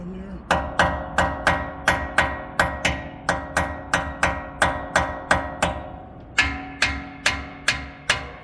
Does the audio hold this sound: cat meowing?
no